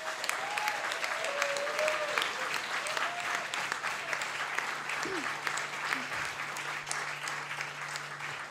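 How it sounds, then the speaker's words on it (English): Audience applause at a BBC Introducing live music session, a steady wash of clapping from a room of listeners, moderately loud and sustained throughout with a faint voice or tone briefly surfacing. "can we give them a massive round of applause,"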